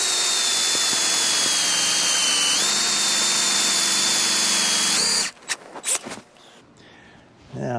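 A power drill with a smaller bit bores deeper into a workpiece, whining steadily and shifting pitch midway, then stopping abruptly and leaving a few clicks and knocks.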